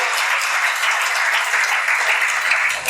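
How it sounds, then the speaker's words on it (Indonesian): A church congregation applauds together, a dense, steady wash of many hands clapping at even loudness throughout, with no break and no clear voices above it. "Tepuk tangan buat Tuhan Yesus."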